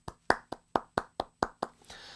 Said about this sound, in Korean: 우리의 찬양을 받으시는 하나님께 우리 감사의 박수 올려드렸으면 좋겠습니다